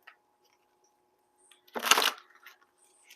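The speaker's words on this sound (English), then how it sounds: "It's hard to shuffle." A big deck of oversized cards is shuffled in one short, crisp riffle, a quick flurry of flapping and clicking in an otherwise quiet room with no speech.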